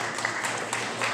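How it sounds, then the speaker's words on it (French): A school audience claps for the fifth-grade finalists of a spelling bee, a light, moderately distant patter of applause over the hall's room tone. "On applaudit les finalistes de la classe de la 5e année."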